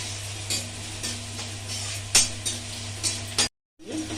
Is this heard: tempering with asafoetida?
yes